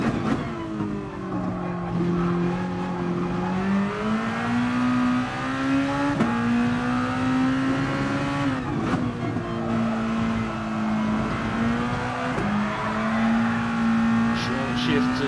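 A race car laps the Nürburgring GP circuit in a racing video game, its engine droning steadily and climbing in pitch through the gears, with squealing tyres and short dips at each shift, while someone talks over it.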